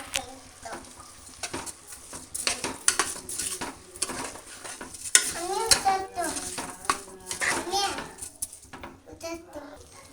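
Washed rice being stirred into a veg pulao mixture in a pot, with scraping and clinking of a spoon against metal, light sizzling underneath, and a voice chattering nearby throughout.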